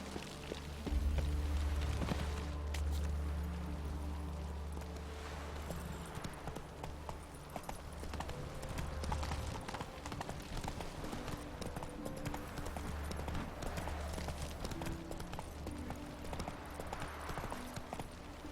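Horse hooves clip-clop in a steady, quick galloping rhythm in The Witcher 3, moderately close and continuous, with low background game ambience beneath.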